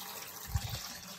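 Water drains from homebrew brewing equipment into a bucket with a steady, close gushing splash and a brief louder pour in the middle, no talking.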